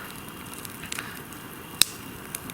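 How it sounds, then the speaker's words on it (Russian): A campfire burning in a snowy winter forest, with soft steady crackling and one sharp pop standing out. No voices. "Как хорошо сидеть возле костра зимой в лесу и ждать приготовления нашей пищи."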